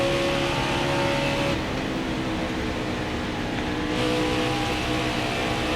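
Race cars in the NASCAR Heat 5 video game run down the back stretch at Las Vegas, a steady loud engine drone holding throughout with slight pitch shifts, no voices.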